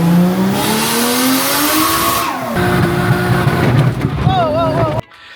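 A bagged Toyota JZX100 Chaser drift car roars at a track in Australia, its engine revving and climbing in pitch before dropping and building again, loud and close, then cutting off abruptly.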